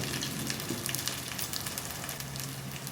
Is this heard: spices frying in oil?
yes